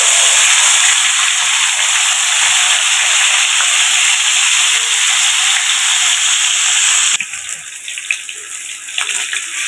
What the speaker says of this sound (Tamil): சிக்கன் ஃப்ரை பண்ணிக்கலாம்.